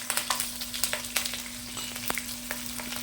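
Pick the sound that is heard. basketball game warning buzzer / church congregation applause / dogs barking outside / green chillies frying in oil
green chillies frying in oil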